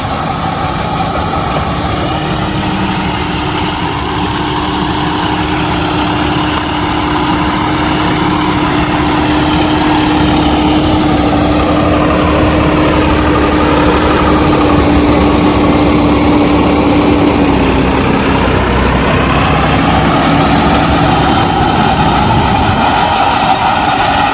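A John Deere 5405 tractor, a 65-horsepower machine hitched to an 8-foot rotavator, idles steadily and loudly close by with a low, even engine rumble and no talking throughout.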